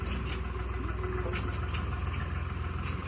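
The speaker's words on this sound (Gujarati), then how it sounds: "અહીંયાથી ટ્રેક્ટર જાય." A tractor engine rumbles steadily close by, its low, throbbing drone loud and continuous for the whole stretch with no talking over it.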